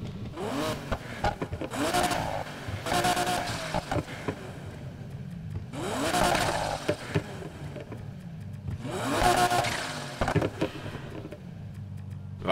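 A Lamborghini Aventador engine in Need for Speed Heat revs repeatedly in sharp, rising bursts separated by short pauses, close and fairly loud, with a throaty exhaust tone.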